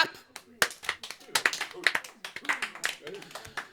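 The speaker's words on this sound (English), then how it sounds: "I meant a round of applause. Come on, clap." Scattered, uneven clapping from a small pub quiz audience, a few hands slapping in loose bursts rather than full applause, with voices chattering over it.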